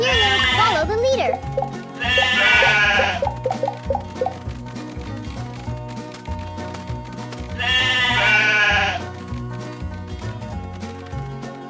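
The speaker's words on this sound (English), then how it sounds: "All right, you hungry sheep, follow me." Cartoon sheep bleat in a children's animated show, two wavering bleats early on and another later, heard over upbeat background music and cheerful character dialogue.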